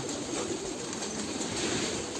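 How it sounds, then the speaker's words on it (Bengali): Around 200 pigeons gathered indoors at feeding time, their soft, steady murmur of coos filling a large room as a continuous, even bed of sound. "তো সবটি কবুতর আস্তে আস্তে নামে নেমে আইল"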